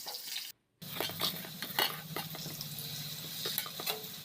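Cubed potatoes hit hot oil with bay leaf and cumin in a pan, giving a steady sizzle with scraping and stirring clatter, after a brief silent gap near the start.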